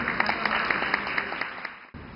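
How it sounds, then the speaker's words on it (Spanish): Audience at a Spanish-language school conference applauding the invited speaker, sparse individual claps over a steady hiss and a high electronic whine, fading before a brief cut. "Un aplauso para él."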